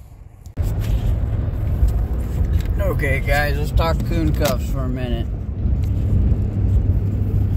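A truck's engine and road rumble start abruptly and hold steady and loud while someone talks over it.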